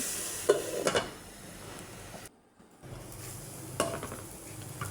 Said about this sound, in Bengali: নেড়ে চেড়ে এবারে ঢাকনা দিয়ে দেবো